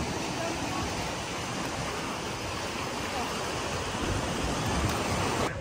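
Steady broadband rush of a flowing river in Puerto Princesa, Palawan fills the clip, continuous and fairly close, with no pauses or distinct splashes.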